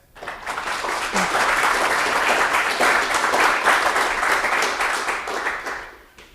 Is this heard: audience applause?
yes